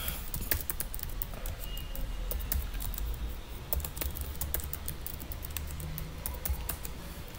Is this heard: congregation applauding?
no